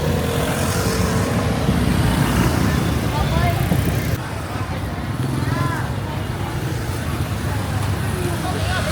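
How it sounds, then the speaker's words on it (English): Dense street traffic in Hanoi, with motorbikes buzzing past close by amid general road noise and babble, a steady loud roar through the whole stretch. "Whoa! Almost getting hit by motorbikes."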